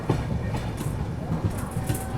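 Metre gauge locomotive and coaches at Junagadh Junction, a steady low rumble of rolling stock with faint rhythmic clatter throughout, fairly close and continuous.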